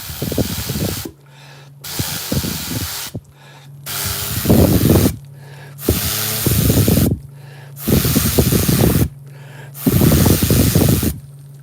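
Sharp breathy air blasts forced through a drinking straw to spin an EDC knife, about six loud close bursts in a steady rhythm, each with a hissing rush and low breath noise, separated by brief pauses.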